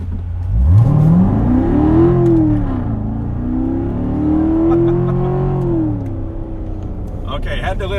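A 2019 Chevrolet Corvette C7 Grand Sport launches from a standstill: the engine note sweeps sharply upward, holds a loud, rising wail through the pull, dips briefly between gears, then fades off near the end.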